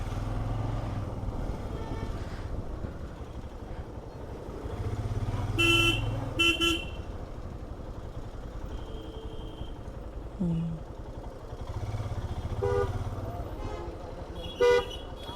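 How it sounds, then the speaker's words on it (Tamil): Busy main-road traffic on the way from Mussoorie toward Yamunotri, with a steady rumble of passing cars and motorcycles and several short horn toots and honks, some repeated in quick pairs, near and fairly loud. "இப்படி தான் டிராஃபிக் இங்கே இருக்கும்."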